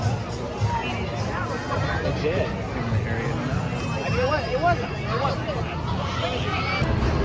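Crowd noise at Sesame Place amusement park, a busy mix of many voices and nearby chatter, with individual talkers standing out close by over the constant babble.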